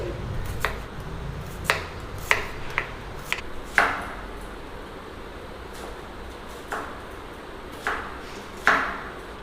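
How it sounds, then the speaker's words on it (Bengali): Knife chopping two onions on a board, a run of sharp, separate knocks with irregular gaps, close and fairly loud, with no talk, while chana masala is being prepared. "আমি দুটো পেঁয়াজ কেটে নিচ্ছি"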